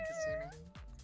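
A cat meows close by: one long, drawn-out call that bends in pitch, followed by a shorter meow, with faint voice-like sound in the background.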